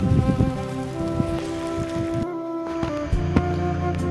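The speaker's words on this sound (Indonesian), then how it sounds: "ini sudah mulai turun hujan." Rain starting to fall near road construction of the Padang–Sicincin toll road, with heavy machinery working nearby; steady dense patter of raindrops on surfaces fills the scene throughout, fairly close, with no talk.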